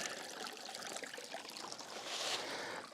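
Water trickles and splashes steadily down a small, low-flowing creek over rock, a close, continuous hiss of running water that swells slightly near the end.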